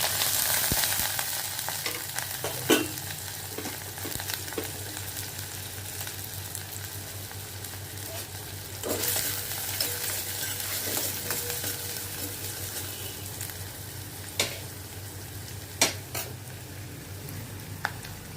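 Chopped onions and green chillies frying in a little oil in a kadai, a continuous close sizzle with scraping stirs and occasional spoon knocks against the pan, no voices.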